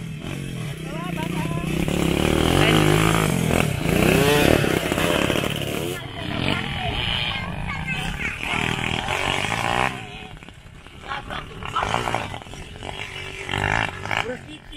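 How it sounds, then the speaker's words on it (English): Motorcycle engines rev and whine loudly, rising and falling as bikes labor up a mountainside in the Philippines, with voices talking intermittently over the engine noise. "So they're practicing their motorcycle riding."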